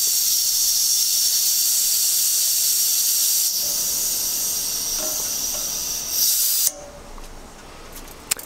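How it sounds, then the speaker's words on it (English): Propane hisses loudly and continuously from the pressure relief valve of a 1 lb tank being refilled, a close, steady rush that thins out near the end and then cuts off, followed by faint small clicks. "I relieved some pressure so that the tank could actually fill up a little bit more"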